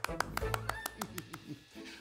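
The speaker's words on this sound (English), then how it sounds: "Everyone clap for him." Around eight separate claps spaced at a steady rhythm, close and fairly quiet, praising Noah for finishing the boat, with a voice speaking alongside.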